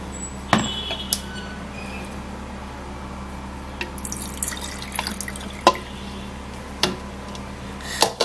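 Freshly squeezed juice drips into a container in a sink area, a few separate drops and splashes spaced irregularly over a steady low background hum, fairly quiet and close.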